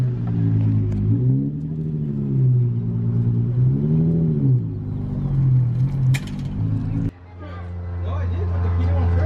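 A car with an exhaust leak idles and revs as it is driven in for repair. A steady low engine drone swells and dips several times, drops suddenly near the end and then settles, with voices faint in the background.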